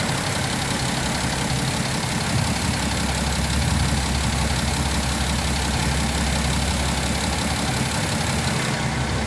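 A BMW 530d with an N57 diesel engine idles steadily, a loud, close, rough low rumble with a faint knocking clatter, holding constant throughout with no talking.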